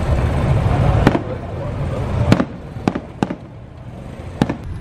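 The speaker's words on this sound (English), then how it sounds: "This tree is blocking my view of the fireworks" Fireworks burst in city streets after a soccer game in Colombia, several sharp distant cracks and pops at irregular intervals over a loud, rumbling street ambience of traffic and crowd noise.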